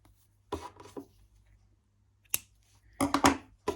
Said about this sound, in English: I'm just gonna cut my this yarn in here.